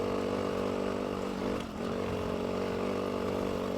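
A dirt bike ridden on loose gravel after a switch from tarmac, its engine holding a steady, close, continuous drone with a brief dip midway and no talking.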